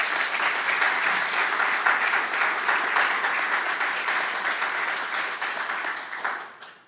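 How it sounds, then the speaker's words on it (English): An audience at an annual meeting applauds steadily for several seconds, a dense, even clapping from a sizable crowd that fades out at the end. "So, round of applause for them,"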